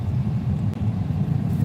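Road traffic rumbles past nearby, a loud, continuous low drone of car engines and tyres with small swells and one brief dip.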